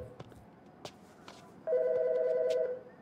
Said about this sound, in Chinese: 我很讨厌电话响很久。